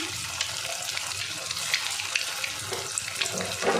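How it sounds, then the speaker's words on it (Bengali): Egg and potato fritters deep-fry in plenty of hot oil, producing a steady, dense sizzling hiss with small bubbling pops, moderately close and with no talk. "বড়াগুলো ভাজা হচ্ছে"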